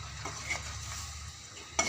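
Chicken curry cooks in a pan, with a steady low sizzle under a few scraping stirs of a spoon, the last stroke a sharper clink, quiet and close with no talking.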